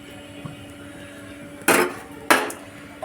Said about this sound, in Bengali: তো আমরা ঢাকনা দিয়ে দিলাম